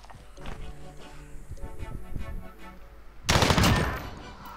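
M4 rifle fire in a video game: a string of rapid shots and game effects, then a sudden louder burst of automatic gunfire near the end.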